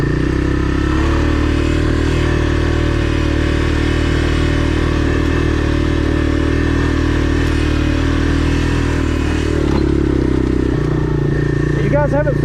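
Honda Big Red 250es three-wheeler ATV engine droning steadily under load while climbing a hill, loud and close throughout, with a brief shift in pitch near the end.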